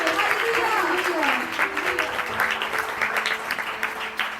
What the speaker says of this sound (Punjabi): Give me big clap to God.